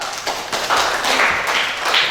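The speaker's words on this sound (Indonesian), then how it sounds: "Ya, tepuk tangan dulu." Classroom of students clapping hands together during a lesson, a short spell of scattered, fairly close clapping lasting a couple of seconds.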